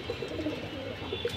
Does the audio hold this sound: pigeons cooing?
yes